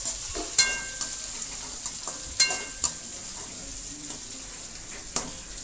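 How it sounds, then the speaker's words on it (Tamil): Onions and green chillies fry in hot oil with a steady close sizzle, broken by several sharp stirring clinks and scrapes of a ladle against the pan, no voices. "இப்போ நம்ம எடுத்து வச்சுருக்கிற வெங்காயத்தை எல்லாத்தையும் எண்ணெயில் ஆட் பண்ணிட்டோம்."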